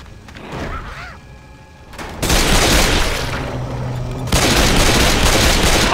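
Gunfire in Left 4 Dead 2 comes in dense, sustained bursts of rapid shots that start abruptly and build louder, following a quieter stretch of game ambience, with no talking over it.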